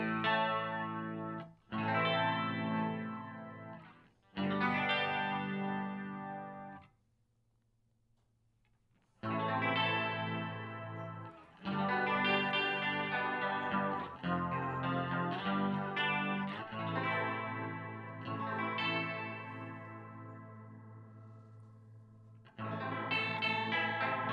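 Electric guitar through a Boss octave pedal with detune: notes and chords with a thick, wobbling chorus-like shimmer and an added lower octave, played in phrases with a short pause midway.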